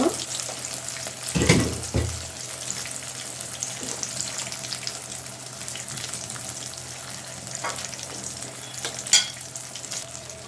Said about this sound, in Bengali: আমি আর সামান্য একটু ভেজে নামিয়ে নিব